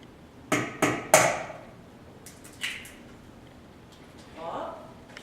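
Eggs cracked one at a time into a salad bowl: three quick sharp taps close together near the start, a fourth crack a little later, then a soft brief rustle, all close and clear with no talking.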